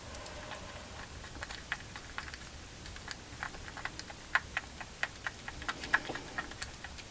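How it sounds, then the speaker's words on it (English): A stick stirs a resin and alcohol ink mixture in a cup, making faint, irregular clicks and light taps against the sides. The sounds are quiet and close, and no one speaks. "I'm going to give it a good stir, mix all that goodness in because it does separate"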